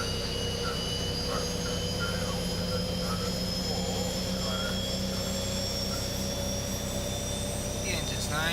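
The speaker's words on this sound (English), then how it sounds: "The engine's nicely starting up there." A Boeing 737-800 jet engine spools up in the X-Plane 11 flight simulator, a steady whine with rising high tones over a constant low rumble, with someone talking throughout.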